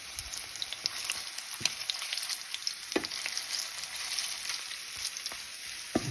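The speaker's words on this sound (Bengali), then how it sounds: "এখন মিট বলগুলো একটু ভাজি করে নিই" Meatballs frying in a pan: a close, continuous hiss of hot oil, dotted with sharp pops and crackles.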